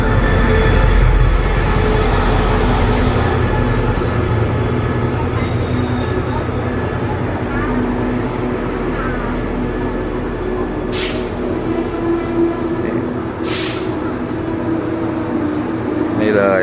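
A passenger train rumbles steadily through a station in Ratchaburi, Thailand, as a continuous close roar with two brief sharp high squeals near the end; no speech is evident.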